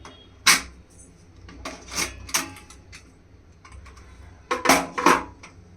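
A metal pressure cooker lid, with its steam already let out, is worked open over mutton keema, giving several separate rasping scrapes and clanks spread across a few seconds against a quiet room.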